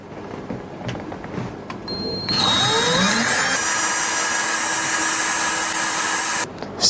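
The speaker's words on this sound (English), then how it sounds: "Drill a 1/4 inch hole on that spot of the pipe." A power drill bores a 1/4-inch hole in a drain pipe, whirring steadily for several seconds, loud and close, spinning up with a rising whine before cutting off near the end.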